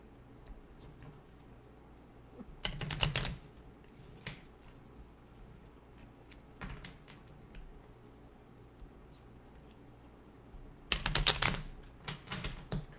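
Stiff tarot cards are shuffled in two sharp, crackling bursts, separated by a stretch of quiet with faint taps and rustles in a small room.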